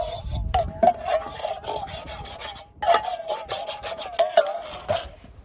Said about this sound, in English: that's how I clean my pot